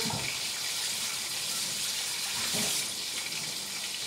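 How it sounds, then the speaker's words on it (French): Tomatoes rinsed under a running kitchen tap, a steady broadband rush of water splashing continuously throughout, close and moderately loud with slight variations as the fruit moves under the stream. "Je vais rincer les tomates."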